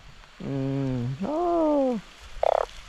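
Deep bullfrog croaks come through in Laos during rain, two long resonant calls in a row followed by a brief rattling croak, loud and close against a soft wet background.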